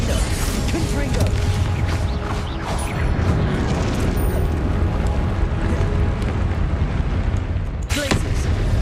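Spell blasts and explosive impacts from the Confringo fire spell boom and crackle continuously in Hogwarts Legacy combat, loud and dense, with a voice calling out during the fight.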